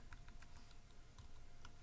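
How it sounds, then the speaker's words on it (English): Quick, irregular clicking of a computer keyboard as someone types code, soft individual keystrokes in uneven bursts with no voices. "I'm just going to start typing that out."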